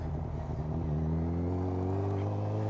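Motorcycle engine running with a steady, loud drone whose pitch rises gradually as it revs, heard up close and alone with no talk.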